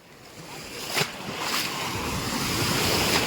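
Ocean waves crash on a beach in a rising, rushing surf roar mixed with wind noise, with a couple of distinct breaking surges standing out.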